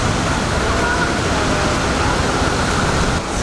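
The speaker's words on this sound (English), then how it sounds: "It is a nice waterfall" Tegenungan Waterfall in Ubud, Bali, roaring as a loud, constant broadband rush of falling water that fills the whole moment without pause.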